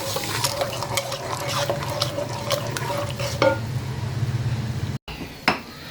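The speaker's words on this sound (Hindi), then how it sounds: "ये टमाटर मैश हो रहे हैं" Tomatoes being mashed in a pot of mutton pulao with salt and cumin, a steady wet stirring and squishing over a low sizzle, with brief utensil clinks and a short cut near the end.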